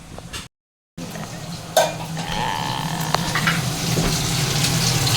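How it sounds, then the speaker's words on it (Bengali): Boiled potatoes frying in a pan in a home kitchen, heard as a steady, close sizzle that starts after a brief silence, with a few light clinks of utensils. "এখানে আলু সেদ্ধ করে মা ভাজছে"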